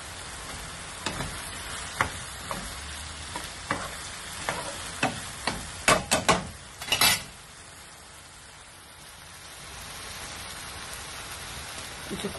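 Chilies fry in a pan for a singara filling, a steady crackling sizzle with repeated scraping taps of a spoon stirring over several seconds, then settling into a quieter hiss.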